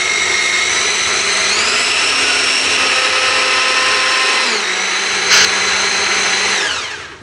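An electric grinder minces pieces of chicken breast for meatballs, its motor whirring loud and steady, shifting pitch a few times as the load changes, then winding down at the end.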